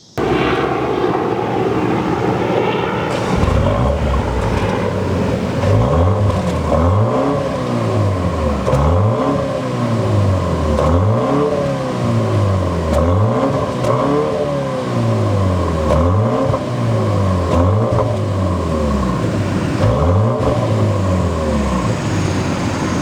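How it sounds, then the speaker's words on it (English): A 2025 BMW X1 M35i small SUV with quad exhaust tailpipes revs its engine repeatedly, loud and close, in a rhythmic series of rising and falling throttle blips with no talk. "the quad exhaust tailpipes. Those sound amazing. Here, take a listen."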